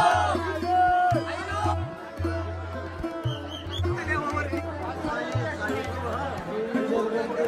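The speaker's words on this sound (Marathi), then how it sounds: "डेंजर गर्दी, खतरनाक गर्दी काय वाटते." A dense crowd of pilgrims chatters continuously, many voices blending into a loud, busy babble with scattered shouts, and a low rhythmic drone pulses beneath.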